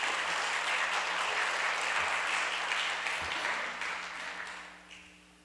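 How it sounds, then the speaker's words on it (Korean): A Korean church congregation in Vancouver applauds to welcome a visiting pastor, sustained dense clapping that holds steady and then tapers off toward the end. "박수로 환영합니다."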